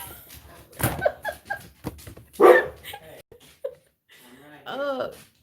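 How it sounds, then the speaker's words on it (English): Dogs bark and yip in scattered bursts, mixed with a person talking over them at close range. "I'm so sorry for the barking dogs"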